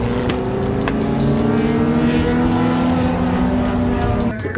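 Race cars roar down the main straight toward the checkered flag at a road racing event, loud sustained engine drone with shifting tones and a few sharp clicks, close and continuous.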